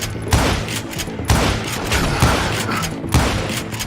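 Gunshots ring out in the Western shooter Call of Juarez: Gunslinger: four sharp, loud reports spaced about a second apart, each trailing a rumbling echo, with no talking.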